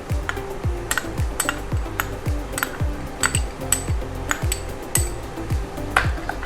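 A spoon mixes cooked sago and soaked sabja seeds in a bowl for a summer mango dessert, making quick, regular clinks and scrapes that repeat about twice a second, close and clear, with no voices.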